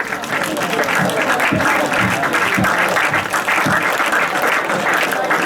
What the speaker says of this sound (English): Round of applause for the team, please.